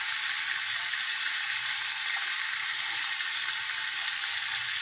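Chicken marinated in fish sauce and calamansi frying in hot oil, a steady bright crackling sizzle heard up close and continuous, with no voices.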